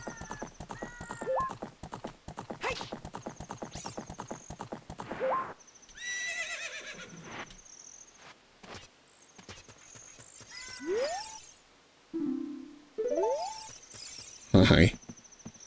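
Epona the horse in Zelda: Ocarina of Time whinnies several times and gallops with quick clip-clop hoofbeats, with game music and chirping ambience between the calls.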